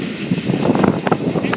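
Strong gusty wind buffets the microphone on an Alpine mountain summit, a loud continuous rumble with irregular blasts throughout.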